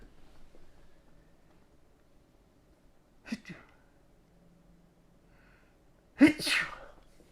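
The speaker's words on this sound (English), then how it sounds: "I'm going to sneeze." A small stifled breath or half-sneeze, a pause, then one loud, close sneeze in an otherwise quiet room.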